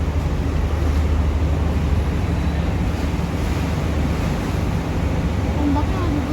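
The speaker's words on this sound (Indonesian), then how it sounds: "Ombaknya lebih besar." Large sea waves wash against a ship at sea in a steady, dense rumble, with heavy wind buffeting the microphone throughout.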